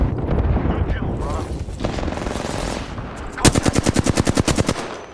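Automatic weapons fire in an Apex Legends Season 5 ranked match, first mixed with rumbling explosions and scattered shots, then a loud, rapid burst of evenly spaced rounds close by, ending in a clean stutter.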